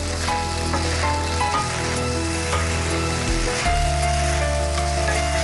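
Prawn rice seasoned with black pepper sizzles in a pan as it is stirred, a continuous close hiss with light scraping and a low hum running underneath.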